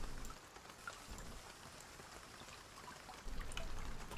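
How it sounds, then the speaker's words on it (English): Steady rain falling, a soft constant patter and hiss of drops, faint and continuous throughout with no voices. "I wish the rain would clean the dirt."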